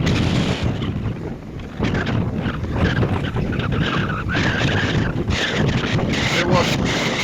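Strong storm wind roars across the microphone on the Black Sea shore at Vityazevo, over the rumble of surf. The gusts are loud and continuous, and a person is speaking beneath them.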